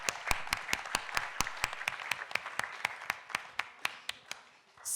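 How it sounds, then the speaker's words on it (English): An audience at a startup pitch event claps for a presenter, a small crowd's applause heard as fairly sparse, rhythmic claps that thin out toward the end, moderately quiet. "A big applause for Gerald."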